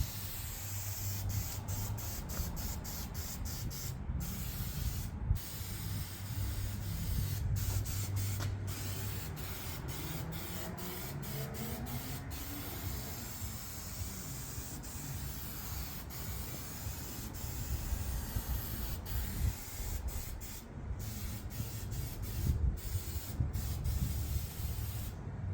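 Spray paint going on in a light coat over a homemade trailer hitch for a Honda Acty kei truck, a continuous close hiss in repeated bursts broken by short pauses as the nozzle is released.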